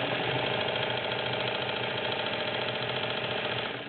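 A vintage Kenmore model 1751 sewing machine runs a straight stitch, giving a steady close mechanical whir and hum with no talk.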